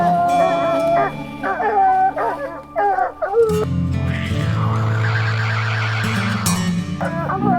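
Missouri coon hounds bay and yip excitedly at a treed raccoon at night, rapid overlapping barks close by, then a louder, denser chorus of baying with some whimpering throughout.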